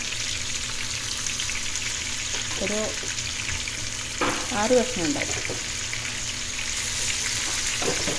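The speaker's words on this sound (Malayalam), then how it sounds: "അപ്പം നമുക്കിത് പൊരിച്ചെടുക്കാം" A large mackerel fries in hot oil with a steady, soft sizzle throughout, joined by a couple of brief stirring or scraping clatters midway while a voice speaks briefly.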